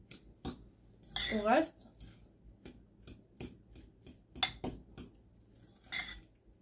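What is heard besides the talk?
mixing with utensil in kitchen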